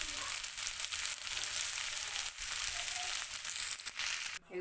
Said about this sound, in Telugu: ఫ్రైడ్ రైస్ మనం రైస్ వేసి కలిపిస్తామండి